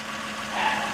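A 2004 Honda Pilot idles steadily after an engine swap, its engine giving a continuous, even hum at close range that swells slightly partway through, with no talking.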